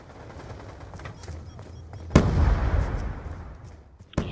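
A grenade explosion in Call of Duty: Black Ops 2 booms close by and rolls off into a rumbling tail, with scattered gunfire cracks before and another sharp shot at the end.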